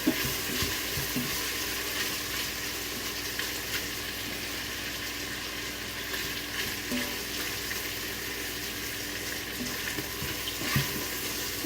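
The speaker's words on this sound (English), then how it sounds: "We're just cooking them till a little brown" Quinoa balls sizzle continuously in a hot pan as they brown, a dense, even hiss with occasional faint clicks and pops, close by and without talking.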